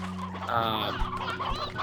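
Sea hens in the video game Slime Rancher 2 give a short, close cluck followed by a couple of quick clipped clucks, sounding clear and isolated against a quiet background.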